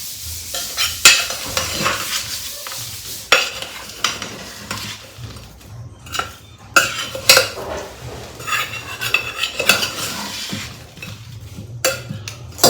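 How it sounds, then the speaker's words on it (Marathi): Jaggery melting in a pan is stirred with a metal spoon, producing repeated clinks and scrapes against the pan in uneven bursts over a soft sizzle, close and fairly loud with brief pauses between strokes. "मी गुळ असा मिक्स करून घेते इथे हळूहळू मेल्ट झालेला आहे"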